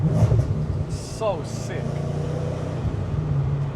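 A supercharged 630 bhp Audi RS4 Avant engine hums low and steady as the car pulls away, with a voice speaking briefly over it near the start.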